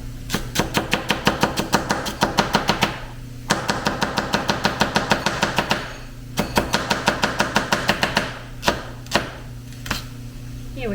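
A knife chops celery rapidly on a cutting board, with loud, close, fast runs of even strikes broken by short pauses, and a steady low hum underneath.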